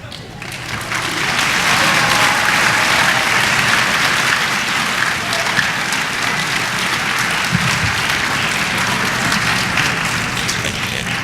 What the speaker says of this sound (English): I want to give Mr. Klein a great big round of applause